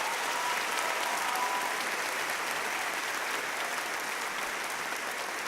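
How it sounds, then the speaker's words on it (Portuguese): A church audience applauds for a woman named Ló, a steady even wash of clapping from many hands that holds at a constant level throughout. "Se você puder aplaudir a Ló"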